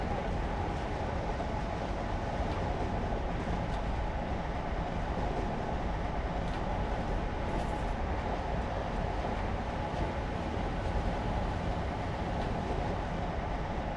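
A train in Train Simulator, the zombie scenario, with a maximum speed of 95, gives a steady, unbroken rolling rumble and wheel noise throughout, with no one talking.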